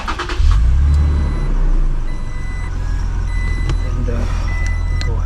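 A Toyota Tacoma pickup truck starts up with a brief low engine surge, then settles into a steady idle; reversing-style beeps and chimes sound over the running engine.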